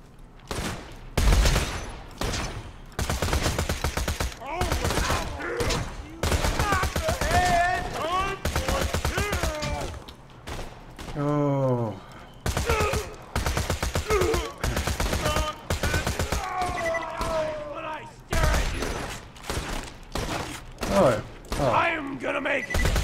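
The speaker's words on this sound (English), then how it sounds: "we get to do a lot of shooting here" Rapid bursts of gunfire from the shooter game Borderlands 2, loud and repeated in quick volleys, with someone talking over and between the shots.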